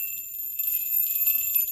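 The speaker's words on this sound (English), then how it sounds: "This bell garland" A bell garland from a Christmas decor haul gives a brief, bright jingle of small metal bells, ringing steadily for under two seconds, close and clear with no talk.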